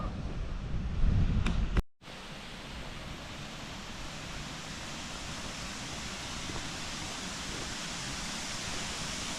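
Water pouring down from the lake at Newstead Abbey, a steady broadband rush that runs continuously after a brief windy buffet and a moment of silence near the start, with no talking.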